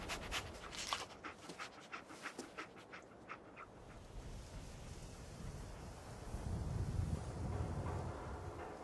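A dog companion in the video game Fallout 4 pants in quick, rhythmic breaths close by for several seconds before fading into a low windy outdoor rumble.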